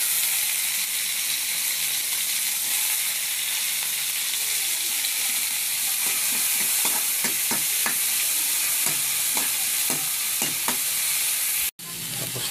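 Onion and tomato sauté in a hot pan, a steady close sizzle running throughout, with scattered stirring scrapes from the middle on and a sharp knock near the end.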